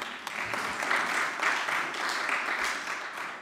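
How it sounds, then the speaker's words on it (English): Steady applause from a crowd at a journalism awards ceremony, a dense patter of many hands clapping continuously at moderate volume throughout. "I think that deserves a round of applause."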